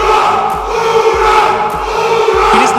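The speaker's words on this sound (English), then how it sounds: "It is the Russian army Ura" Russian army "Ura" battle cry sample from Call of Duty: World at War, a loud, sustained massed shout of many voices, looped under a steady pulsing bass beat in a song.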